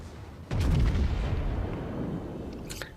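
Naval cruiser guns firing in World of Warships, with one heavy booming salvo that hits sharply and then rumbles away, followed by a smaller crack near the end.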